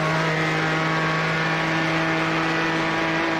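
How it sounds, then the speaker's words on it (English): A race car in a Bathurst enduro racing game, fitted with a 4GT engine, holds a loud, steady high-revving exhaust note with a faint pitch drop near the end and no talking. "Little downshift, high RPM pop."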